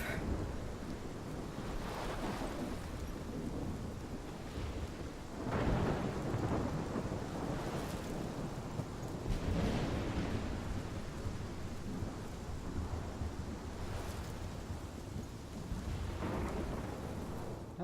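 A thunderstorm in the video game Life is Strange: steady heavy rain and wind with rolling rumbles of thunder swelling and fading throughout, loud and continuous with no voices.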